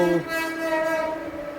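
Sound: train arriving

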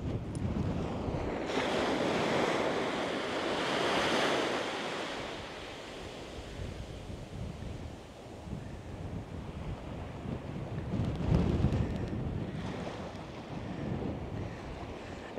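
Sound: waves on the beach at Sandy Cape, Australia

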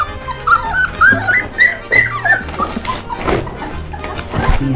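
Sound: dogs whimpering and yipping

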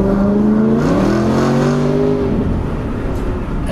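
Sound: BMW 1M Coupe tuned engine and exhaust sound

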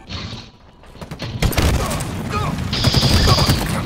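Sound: shotgun fire in video game Halo Infinite

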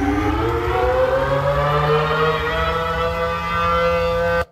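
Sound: tornado civil defense sirens sounding

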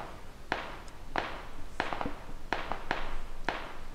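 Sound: gunfire in a video game

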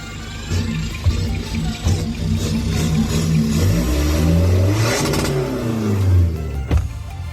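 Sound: remapped 1900 diesel pickup engine revving to limiter cut

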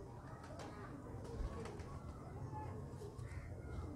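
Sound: pigeons cooing

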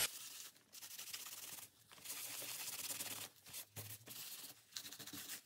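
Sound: rubbing paint splatters off a journal page

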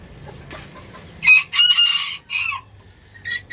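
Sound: chickens clucking while being fed

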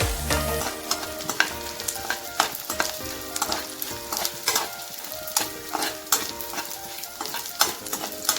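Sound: edible gum (dink) frying in hot ghee

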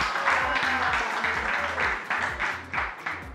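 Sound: audience applause at finale

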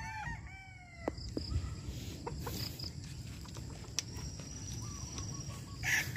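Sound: bulik gamefowl rooster clucking

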